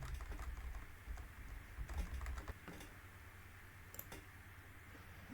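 Computer keyboard keys tapped in quick bursts, including Delete and Ctrl+Z presses while working in Plaxis 2D geotechnical software; close, crisp clicks over a low steady hum, busiest in the first half and thinning out later.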